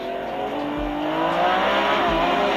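A Lamborghini Revuelto V12 hybrid accelerating hard, a dense, steady engine roar that swells gradually in loudness and pitch, heard up close with no talking.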